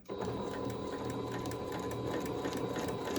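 Sewing machine running steadily as it stitches a seam in a folded plastic bag at an eighth-inch seam allowance; a continuous close mechanical whir with rapid ticking, no pauses.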